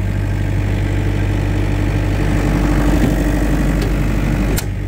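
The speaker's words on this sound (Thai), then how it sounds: "อีซูซูเครื่องยนต์สี่สูบนะ" Isuzu four-cylinder engine runs inside a soundproof generator box, a loud, steady, low idle drone throughout with a faint click near the end.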